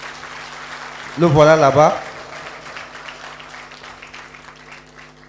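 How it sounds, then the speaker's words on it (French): Someone speaks briefly, then soft scattered clapping from a small crowd continues in the background for several seconds. "Applaudissez pour ce jeune homme."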